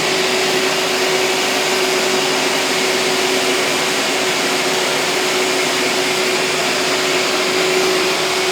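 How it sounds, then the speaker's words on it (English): A Festool CT20 dust extractor fitted with a cyclone separator runs continuously, a loud, steady vacuum roar with a fixed whine held throughout, no speech. "Let me turn the extractor on."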